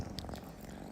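A cat purring close by, a soft continuous rumbling purr heard alone.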